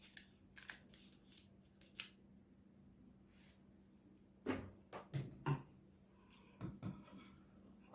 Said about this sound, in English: So I'm going to cut it out from this point.